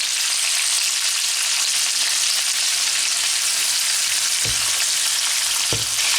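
Loud, steady sizzling of chicken pieces searing skin side down in a hot frying pan fills the clip, with a couple of brief low knocks near the end.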